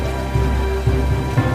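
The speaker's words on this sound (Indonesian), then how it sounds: "hujan yang begitu lebat. Lari, hujannya semakin deras." Heavy rain pours down steadily as a dense, continuous hiss, with low rumbles swelling a few times like distant thunder or gusting wind.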